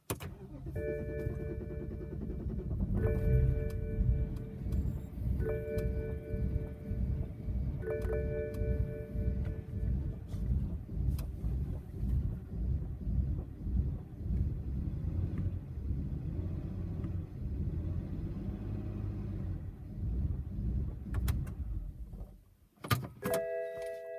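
A BMW 135i with the N54 engine is started with the parking brake on and the gearbox in neutral, giving a steady close engine rumble with repeated starter or chime tones, then dropping away near the end.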